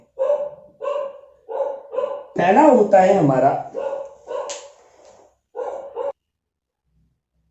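Dogs bark in repeated short bursts nearby during a maths lesson recorded at home, the yaps coming in a steady run while someone talks over them.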